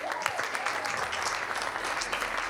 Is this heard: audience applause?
yes